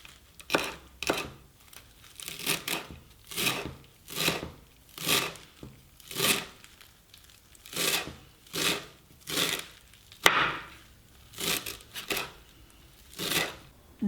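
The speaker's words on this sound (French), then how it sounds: "je vais tailler mon persil" A knife chops parsley on a cutting board in steady rhythmic bursts, about two strokes per second, close and crisp with no talking.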